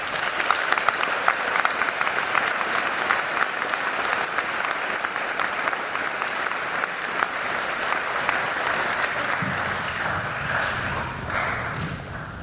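Sustained applause from a large audience at Te Awamutu College's senior prizegiving, a dense steady roar of clapping lasting throughout, easing slightly near the end.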